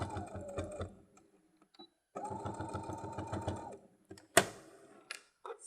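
Short bursts of a sewing machine stitching the lining of a coin purse, two close runs separated by pauses, with a sharp click and light handling noises near the end.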